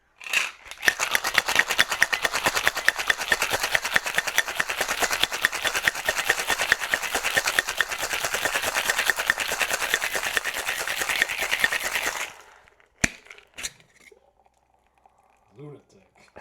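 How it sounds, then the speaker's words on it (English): Ice rattles hard inside a cocktail shaker tin, a loud, rapid rhythmic clatter lasting about twelve seconds before stopping abruptly, followed by a few light clinks. "we're going to add ice to our shaker tin. And then we're going to shake for about 10 to 15 seconds"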